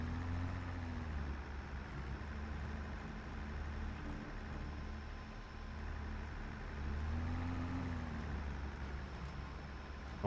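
Old tractor engine in Farming Simulator 22 running steadily with a constant whine and low rumble, holding level for the whole stretch with a slight rise in pitch near the end.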